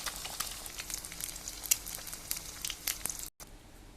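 Eggs fry in hot oil in a pan, three at a time, with a dense, steady sizzle and crackle and sharp spits popping throughout. A brief dropout comes near the end, then the sizzle resumes.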